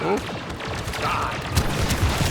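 A bomb blast in the Star Wars Battlefront II video game rings out amid constant loud battle noise, with several booming low thumps in the second half over dense gunfire-like clutter.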